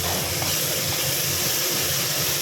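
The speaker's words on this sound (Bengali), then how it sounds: "এই মশলাটা ভালো করে ভেজে নেবো।" Spice masala of turmeric and cumin powder fries in a pan for a mushroom curry, giving a steady, close, even sizzling hiss with no pauses and no talking.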